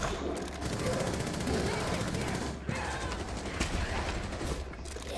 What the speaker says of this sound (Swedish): Skott kommer.